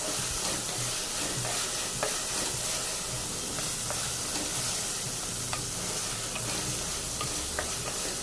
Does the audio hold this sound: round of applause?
no